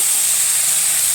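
Tomato and spices fry in oil in a pan, producing a steady, even sizzling hiss that holds for about a second with no talk.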